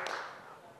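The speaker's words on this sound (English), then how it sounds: "I'll take the pity clap" A small, scattered round of audience clapping at a technical conference talk, brief and fairly close, with a sharp onset that thins out quickly.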